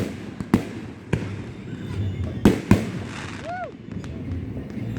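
Fireworks burst outdoors in several sharp, loud bangs spaced irregularly, with a rising whistling streak near the end, over a steady crowd murmur and a voice speaking.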